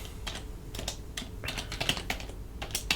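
Terminal commands are typed on a computer keyboard, a quick run of close, crisp keystrokes in an irregular rhythm with short pauses between bursts.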